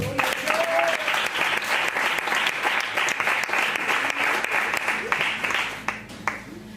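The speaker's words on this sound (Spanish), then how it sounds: "Dale un aplauso al Señor" A church congregation applauds the Lord during a sermon, steady dense clapping from a large crowd that fills the whole stretch, tapering slightly near the end.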